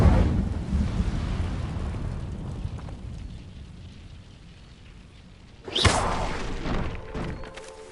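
Incendio fire spell cast in the game Hogwarts Legacy, heard as a low rumbling roar that fades, then a sudden loud fiery whoosh bursting near the end and trailing off.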